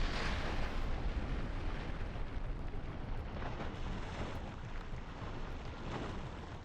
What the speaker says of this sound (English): A munitions-carrying drone destroyed a Ukrainian boat with a massive explosion